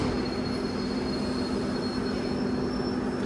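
An old T4M commuter electric train pulling into Belorusskaya station in Moscow, a steady loud rumble with a sustained high wheel squeal running through the whole stretch.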